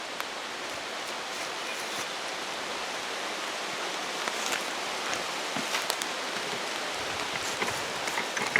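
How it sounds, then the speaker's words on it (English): Steady rain falling on a hammock tarp at a campsite in Wayne National Forest, Ohio, a continuous close hiss of drops with scattered louder patters and no voices. "That is rain. Let me throw the tarp on the hammock."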